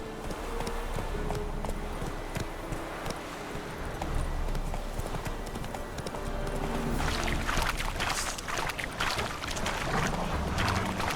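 Galloping horse hooves from The Witcher 3, a steady rapid clip-clop running under continuous ambient game sound and music, close and moderately loud throughout.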